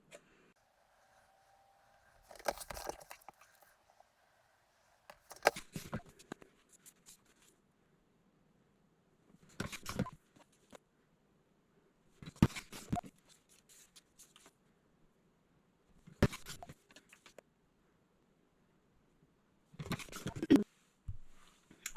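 A Creative Memories 12-inch paper trimmer slices paper strips in six short, crisp swipes spaced a few seconds apart, close and fairly quiet, with near silence between cuts.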